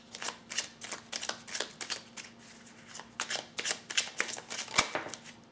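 A deck of tarot cards being cut and shuffled, a rapid run of crisp riffling flicks and slaps close up, with no voice over them.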